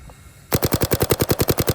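Paintball marker fitted with a Salty Engineering G6R bolt and poppet and a die tip, firing a rapid burst of about fifteen sharp, evenly spaced shots after a brief quiet start, loud and close with no talking.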